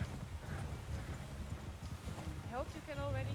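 Horses' hooves clopping steadily across a wooden bridge in a western video game, a dense low clatter running throughout with a brief whinny near the end and a voice talking over it.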